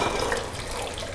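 Wine punch pouring in a steady, splashing stream like running water, close and continuous for the whole short moment, with no voices.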